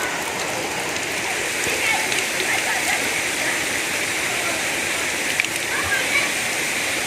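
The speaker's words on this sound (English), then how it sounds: "here is where the locals fetch their drinking water" Natural spring water where locals fetch drinking water on a waterfall hiking trail, flowing in a steady full rush without pause.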